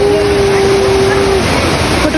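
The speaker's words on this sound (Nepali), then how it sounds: "यही नौबहिनी झरना देख्न सक्नुहुन्छ" Naubahini waterfall heard as a steady, loud broadband roar of falling water from nearby, continuous throughout with a brief tonal hum early on.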